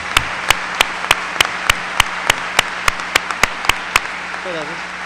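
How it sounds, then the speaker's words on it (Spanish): A seminar audience at a trade-agreement forum applauds the two Trejos. Sharp, evenly spaced claps stand out near the microphone, about a dozen in a steady rhythm, over a low hum, with a faint voice at the end. "un aplauso que se lo merecen los dos señores Trejos."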